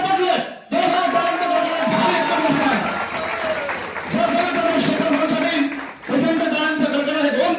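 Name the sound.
audience applause at an award ceremony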